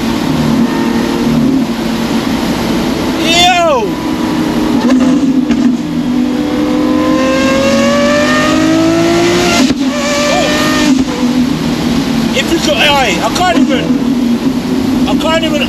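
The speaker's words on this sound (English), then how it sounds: "I can't even explain the way that this bangs into gear. The whole car erupts" A Lamborghini SVJ Roadster with straight-piped exhaust roars loudly and continuously, engine pitch climbing through several gear shifts with rising whines and sharp bangs, heard from inside the car with a voice over it.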